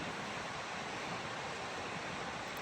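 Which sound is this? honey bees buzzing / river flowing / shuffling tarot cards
river flowing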